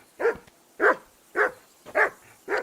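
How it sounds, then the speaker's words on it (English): A dog in the video game Kingdom Come Deliverance 2 barks five times at an even, steady pace, each bark loud, close and clear, with no talking over it. "That barking is making me deaf."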